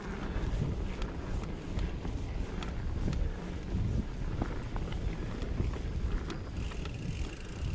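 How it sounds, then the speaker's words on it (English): Strong wind buffets the microphone in constant low rumbling gusts at Duguid Park, Fayetteville, New York, with faint rattling and scattered thumps underneath. "Holy windy."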